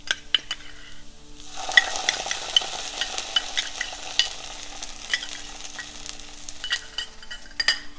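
Ginger garlic paste sizzles and fries with browning onions and chilies in a pan for butter chicken, a steady crackling hiss punctuated by sharp stirring scrapes and clinks of a utensil against the pot, close and alone.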